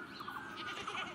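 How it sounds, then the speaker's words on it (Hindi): Goats bleat in a Himachal Pradesh village setting, with a few short, wavering calls heard at moderate distance over a steady outdoor background. "मैं देखती हूँ अपनी बकरियाँ"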